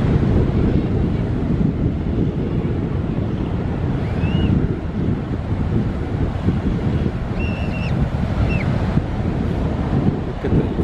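Ocean waves and heavy wind at sea, heard from a boat on a big, wet ocean in extreme conditions, a steady loud roar of surf and buffeting wind filling the whole clip with no talk.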